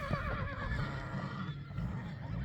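A stallion neighs loudly and close as it is let loose to join its herd of mares in Chatkal district, Kyrgyzstan, giving one long, wavering harmonic whinny over light background rustle.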